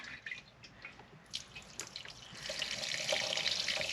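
Dirty brown water from a carpet extractor tank, used on a moldy, water-damaged VW Tiguan, is poured out, first as scattered drips and splashes, then as a steadier stream building into a continuous close pour.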